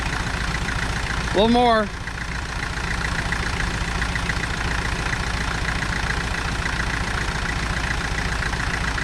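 An International Harvester B275 tractor engine idles with a steady low throb throughout, while a person speaks briefly over it.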